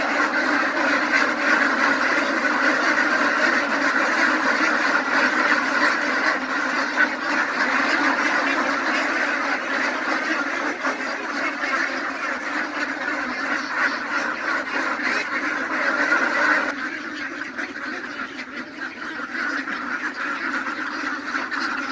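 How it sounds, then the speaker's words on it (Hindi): A large flock of ducks at a duck farm quacks continuously in a dense, loud chorus, then the din eases slightly toward the end. "इस व्लॉग में मैं आप लोगों को बतखों की अटखेलियाँ दिखाऊंगा"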